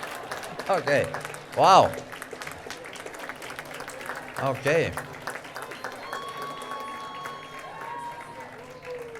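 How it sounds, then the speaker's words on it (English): Continuous audience applause at a university distinguished teaching award announcement, a crowd clapping steadily in a hall while a presenter speaks over it. "Almost a standing ovation here, almost."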